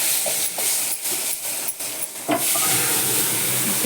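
Hot tempering (phodni) of oil and spices poured onto dal methi: choppy scraping and sizzle bursts, then a loud, steady close hiss of frying that continues to the end.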